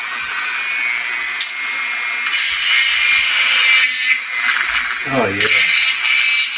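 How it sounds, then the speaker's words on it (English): A Dremel rotary tool cuts into a Bandai Gundam M61A5 main battle tank model diorama, giving a steady, loud, high-pitched whine that runs throughout. A person speaks briefly near the end. "All right, I'm going to turn on the Dremel again."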